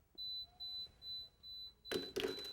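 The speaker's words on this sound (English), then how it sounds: "Every time you hear that little beep, put your block in the basket." A faint, high audiometry screening tone pulses on and off four times in a quiet room, each beep short and steady, before a louder clatter of thumps and movement breaks in at the end.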